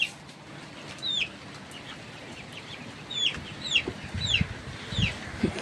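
Chickens cluck in a pigeon and chicken house, a series of short, fairly near calls coming in irregular bursts over a soft background, growing busier toward the end, with no talking.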